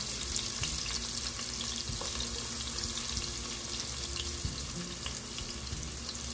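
Chopped onion frying in olive oil in a pan for a large Sunday pasta lunch, giving a steady, close, continuous sizzle with faint crackles and no talking.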